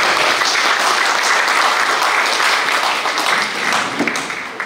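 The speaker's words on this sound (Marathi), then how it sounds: "त्या सर्व व्यासपीठांसाठी एक जोरदार टाळ्यांचा" A large audience at an indoor evening talk breaks into loud, sustained applause, dense clapping that holds steady before tapering near the end.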